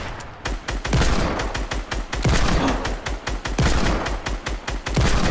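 Video game gunfire, loud and close, with rapid bursts of shots in quick strings and brief pauses between volleys.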